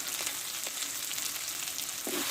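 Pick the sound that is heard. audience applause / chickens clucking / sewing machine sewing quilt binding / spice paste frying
spice paste frying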